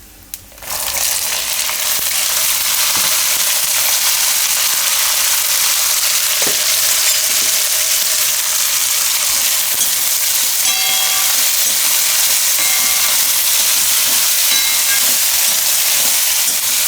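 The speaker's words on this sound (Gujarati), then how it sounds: "આને આપણે તેલમાં થોડીક વાર પાકવા દઈએ." Papdi beans hitting hot oil with asafoetida and red chili, a loud dense sizzle that starts suddenly and then holds steady and bright, with occasional light clinks and no talking.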